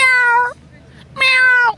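A man vocally imitates a cat, giving two loud, drawn-out meows separated by a short quiet gap, each clear and close to the listener.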